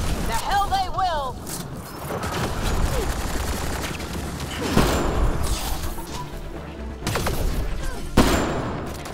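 Gunfire rattles through a combat scene in Mass Effect: Andromeda, with bursts of shots, crashes and mechanical clatter at close range and some voices talking across it.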